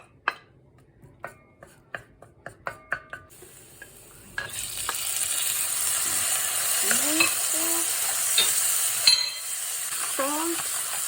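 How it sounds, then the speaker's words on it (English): Chopped garlic sautéing in a pan for a mustard greens dish: a run of sharp knocks and clinks first, then a steady loud sizzle starts, with utensil scrapes and brief squeaks over the hiss, close by. "Just saute the garlic a little bit."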